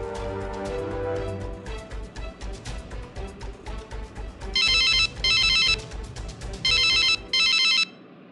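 A phone ringtone rings in four bright, loud bursts with short gaps, following a stretch of rhythmic thumping background music.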